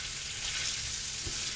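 Bacon bits frying in a pan to render out the fat, a brief, close, continuous crackling sizzle with no talking.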